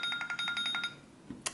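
A phone going off nearby: a quick run of about eight evenly spaced electronic pulses, faint and alone, followed by a couple of soft knocks.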